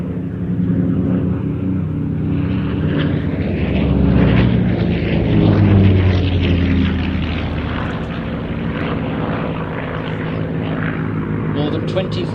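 Supermarine Spitfire flying at a Midlands airshow, a loud rumbling propeller engine drone that swells and fades as it passes, with a commentator talking over it.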